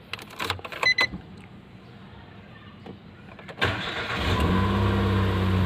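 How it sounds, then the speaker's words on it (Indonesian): A 2013 Nissan March Sport Version cranks over briefly and fires up, then settles into a steady, close, loud idle after a quiet pause. "sekarang kita mau starter mobilnya biar sirkulasi dulu"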